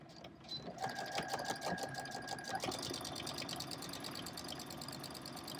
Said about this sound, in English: now we're going to sew on these guidelines, which is going to keep this part free from the filler that we put in it